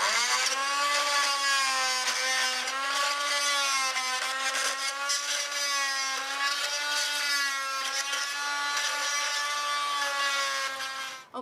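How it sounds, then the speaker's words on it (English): Oscillating multi-tool working on stapled chair upholstery, a loud continuous buzzing whine with a steady pitch that wavers slightly as the blade pries at staples and fabric; no voices. "To make it a little easier to remove the staples and the bunched up fabric, I'll use my oscillating tool."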